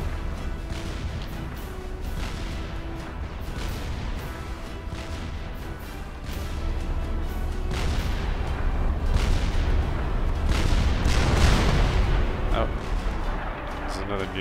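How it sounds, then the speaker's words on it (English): A nuclear detonation in the real-time strategy game Supreme Commander: Forged Alliance gives a long, heavy rumbling roar that builds toward a louder swell, layered over ongoing battle booms and gunfire, with a voice talking throughout. "Nuclear explosion going off."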